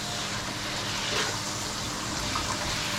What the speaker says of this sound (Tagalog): maghuhugas pa tayo ng plato